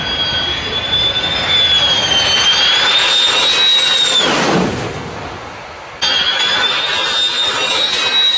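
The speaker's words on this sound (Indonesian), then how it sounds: "saat kita berada di bawah pesawat tempur yang akan landing" A fighter jet coming in to land roars and whines directly overhead, its pitch shifting as it passes close, with a brief dip before the roar returns.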